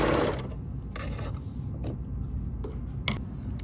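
A sewing machine fitted with an L 8 Series elasticator stitches off the end of fabric, a steady low mechanical whir with a few sharp clicks, close and alone.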